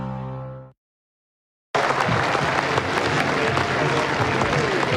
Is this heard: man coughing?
no